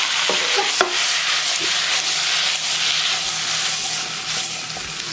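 Ground beef with Worcestershire sauce sizzles in a hot pan while being stirred, a steady close hiss broken by spatula scrapes and small pops.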